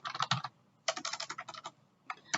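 Fingers tap on a computer keyboard, typing names into a software search field: quick bursts of crisp clicks broken by short pauses, close and clear with no voices.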